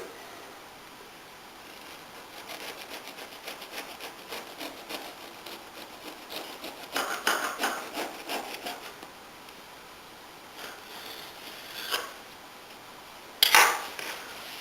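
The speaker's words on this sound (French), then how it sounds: "Le cake est maintenant refroidi et je vais en découper les premières tranches." A knife cuts the first slices from a cooled homemade lemon loaf cake, making soft scraping and rubbing strokes with a few light clinks of cutlery against a plate, quiet and close, with no talking.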